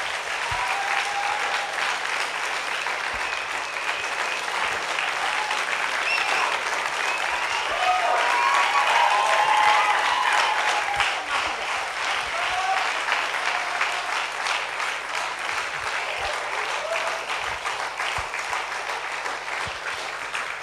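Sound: audience applause

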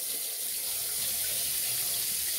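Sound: tap water running for hair washing

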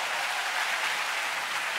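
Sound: studio audience applause

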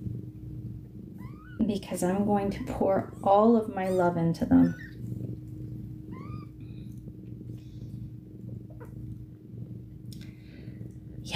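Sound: kittens meowing and purring

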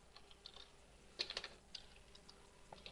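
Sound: typing on a computer keyboard

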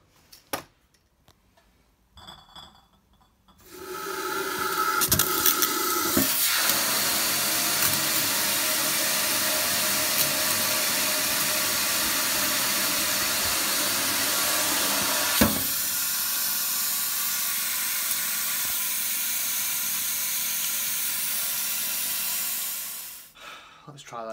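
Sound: BrewTools spray nozzle running water to steam condenser

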